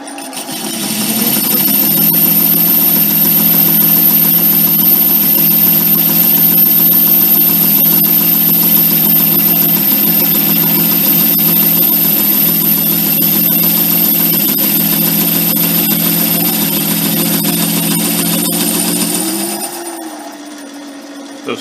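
Metal lathe making a cut under power feed while turning a part for a steady rest, a loud, continuous motor hum with steady mechanical whirring for about twenty seconds before easing off near the end; no talking.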